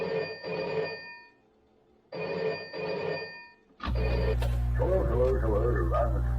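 A telephone rings in two bursts with a pause between them, starting a phone call in a FNAF video game, then gives way to a loud, droning line as a muffled voice begins.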